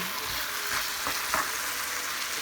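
Paprika and onions frying in a pan, a steady close sizzle with a few soft pops and stirring touches, with no talking.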